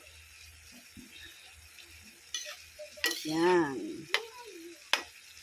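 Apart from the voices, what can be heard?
sautéing mung bean sprouts and bok choy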